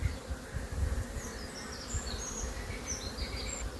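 A queenless colony of honeybees fans its wings inside the hive, giving a continuous close buzzing drone, steady and even throughout, with faint high chirps over it and no talking.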